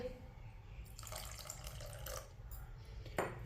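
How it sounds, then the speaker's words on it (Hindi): Water poured into besan (gram flour) batter for aloo tikki, a steady faint trickle and splash in a home kitchen, with a brief louder splash near the end. "थोड़ा सा पानी और डालेंगे"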